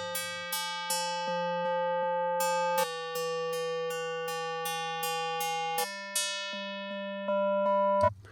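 A Serum synth pad holds tonal chords with buzzy, comb-filtered noise, repeated plucky attacks re-triggering every half second or so as the tone shifts.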